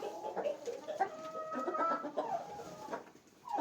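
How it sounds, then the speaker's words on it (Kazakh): Farm turkeys cluck and chatter nearby in a poultry yard, a series of short, soft calls overlapping at low volume with no talking. "Так, осы күрке тауықтар сатылады."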